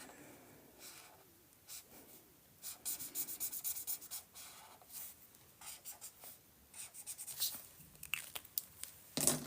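A pen colors in a pumpkin-themed planner page with quiet, close scratchy strokes that come in short bursts and steady rubbing runs, alone and faint.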